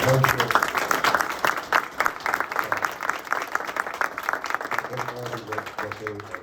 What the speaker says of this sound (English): if you could just applaud Ms. Leah Evans